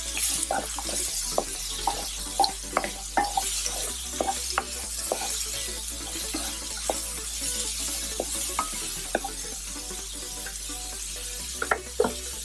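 Small onions sautéing in a pan for Chettinad egg curry, a spoon scraping and clinking in irregular strokes over a steady low sizzle, close and alone.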